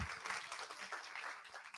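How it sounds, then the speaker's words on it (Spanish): A short burst of dense clapping, a crowd applauding steadily throughout, fairly faint and distant. "Fuerte aplauso."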